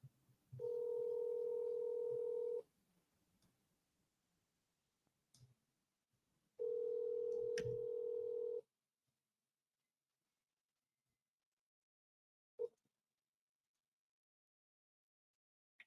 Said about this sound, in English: Can you hear it ringing?